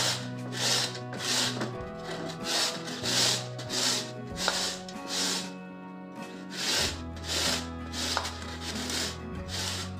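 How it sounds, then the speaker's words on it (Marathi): Carrots for halwa being grated by hand on a grater set over a wide plate, a close, steady series of rhythmic scraping strokes, about a dozen in ten seconds, with no talking. "आता आपण किसून घेऊ।"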